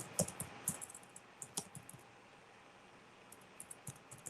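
Typing on a computer keyboard while entering text and tabs in LibreOffice Writer: sparse, quiet key clicks in small clusters with a pause in the middle, a faint hiss of room noise underneath, no voices.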